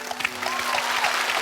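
Applause from a studio audience at a televised debate show, a short sustained burst of clapping with a faint tonal hum running underneath.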